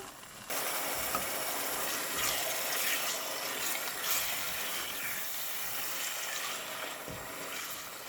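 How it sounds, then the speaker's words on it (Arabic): Chicken liver with hot pepper fries in a pan, a steady, fairly quiet sizzling hiss that starts abruptly and carries on evenly with faint stirring clinks, close and with no voices. "هننزل بالكبدة على القلوب وهنقلبها"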